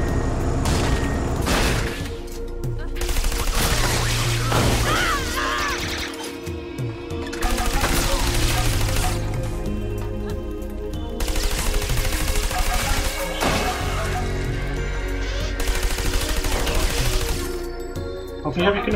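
Gunfire in the video game Trials of the Blood Dragon, with bursts of rapid shots and sharp cracks under game music and effects, coming in several loud stretches with brief gaps between them.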